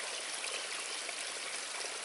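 Stream water flows steadily, a constant broadband rushing and trickling wash that stays even throughout, close and fairly loud with no voices.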